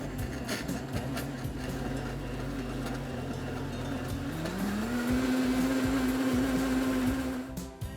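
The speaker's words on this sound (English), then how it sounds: "We'll place that onto the blender and select program 28" A blender running a milkshake program whirs loudly and steadily, its motor pitch rising partway through as it churns an ice cream milkshake, then holds high until it winds down near the end.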